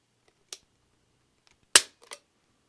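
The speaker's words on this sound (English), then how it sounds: "I'm going to do just one trigger pull on each one. This is going to be double action on the Walther." A Walther P22 pistol dry-fired with a double-action trigger pull: a faint mechanical click, then a sharp, louder snap of the hammer falling, followed by a couple of small rattling clicks, close and otherwise silent.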